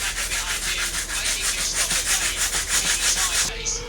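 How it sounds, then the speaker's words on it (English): Sandpaper is rubbed quickly back and forth around the trimmed edges of a fiberglass layup, a close rhythmic rasping of about fifteen strokes that stops abruptly near the end. "I'm just gonna do a quick sand around the edges"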